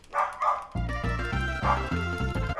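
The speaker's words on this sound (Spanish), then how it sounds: "¿Por qué el perro ladra?" A dog in the Donkey Kong Country video game gives a couple of short, loud barks over bouncy game music.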